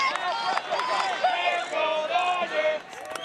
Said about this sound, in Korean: 관중까지 일제히 구호를 외치는 가운데